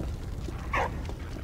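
A dog in the World War I video game Valiant Hearts: The Great War gives a brief, soft yelp or whimper over a steady game backdrop.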